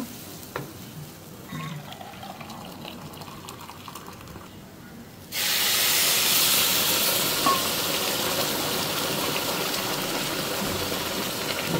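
Quiet low stirring of rice frying for beef tehari, then a sudden loud burst of steamy hissing as hot water hits the hot pan, settling into a steady strong sizzle.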